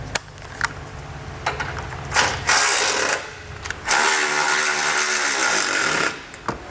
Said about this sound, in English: we're going to switch over to a 3/4 inch socket.